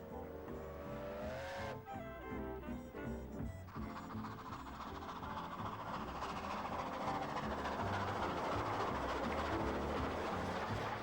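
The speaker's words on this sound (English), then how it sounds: "enjoy firsthand the enjoyment of a nostalgic steam train ride" A UK steam train rumbles and clatters along continuously, with a tonal whistle-like hiss early on and a rising mechanical roar, no talking.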